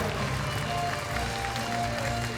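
Audience applause fills a horse show hall during a stallion parade in Villepinte, a dense, steady wash of many hands clapping, loud and close, without a break for its full length.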